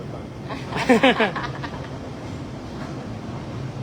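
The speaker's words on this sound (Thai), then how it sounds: "นั่งรถรางต้นสายถึงปลายสาย เสียแค่สามจุดสองเหรียญ" A Hong Kong tram rolls along its rails with steady rumbling and clacking, while a brief burst of laughing voices rises in the middle before the running noise continues alone.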